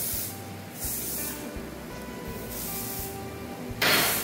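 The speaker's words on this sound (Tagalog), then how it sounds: "Basic lang, spray lang." Bursts of hair spray from an aerosol can hiss out in several short sprays during a makeover, each a sharp airy blast separated by brief pauses, close to the listener.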